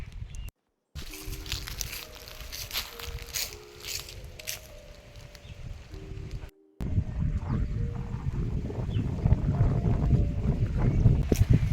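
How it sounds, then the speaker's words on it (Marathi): Strong wind buffets the microphone on an open laterite plateau in the Konkan countryside, a loud rumbling roar that grows stronger toward the end, with people talking over it. "वाऱ्याचा आवाज येतोय का तुम्हाला?"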